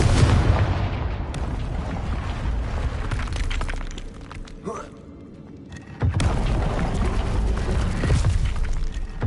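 Blasting-spell explosions in a wizard video game, loud broadband booms and rumbling blasts filling most of the stretch, dipping briefly in the middle before surging back.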